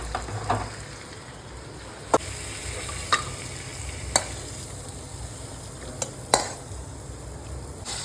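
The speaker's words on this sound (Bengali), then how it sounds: "তো এখন আস্তে আস্তে মাংসটা কষতে থাক" Meat being slowly stir-fried in a pan (kosha), a steady sizzle and frying hiss broken by occasional sharp clicks and scrapes of a spatula against the pan.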